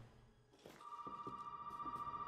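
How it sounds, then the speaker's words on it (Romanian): Telephone ringing inside a video game: a steady electronic bell tone that starts after a thump and continues evenly, quiet and alone. "Sună telefonul, stai să-mi pun casca."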